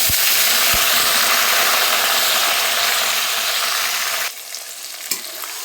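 Garlic and chopped ginger paste fry in hot spiced oil with a loud, dense, continuous sizzle close by, which abruptly drops to a much quieter crackle near the end, punctuated by a couple of faint knocks.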